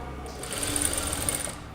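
A sewing machine runs steadily, stitching along the edge of a kurta, a loud continuous mechanical whir that stays close and even for under two seconds with no talk.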